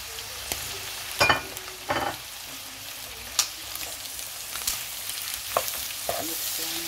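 Tomatoes fry with beef in a hot pan, sizzling steadily, close and fairly loud, broken by a few sharp scrapes and knocks of stirring.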